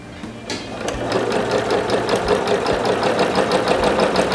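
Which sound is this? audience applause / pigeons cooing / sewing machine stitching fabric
sewing machine stitching fabric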